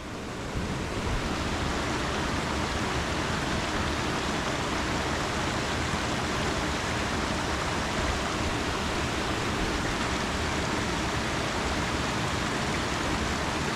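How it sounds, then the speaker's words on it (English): Fresh spring water running in a stream, a loud, unbroken rushing wash that stays constant from start to finish with no voices. "Spring running water."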